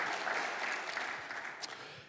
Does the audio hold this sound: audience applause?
yes